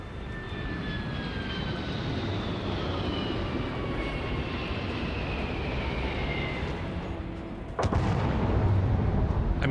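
A big gun fires in the space game Starfield: a steady, loud engine-like roar builds for several seconds, then one sharp blast near the end gives way to a heavier rumble, with no voices.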